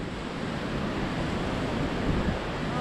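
Wind blows across a shallow beach in Vlorë, Albania, in bad weather, a continuous low rumbling gust noise mixed with surf wash, steady and close to the microphone.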